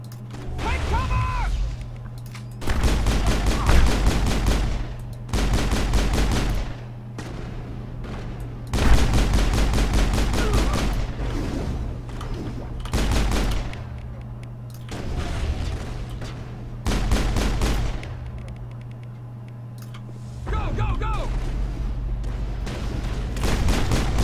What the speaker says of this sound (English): the strafing was really strong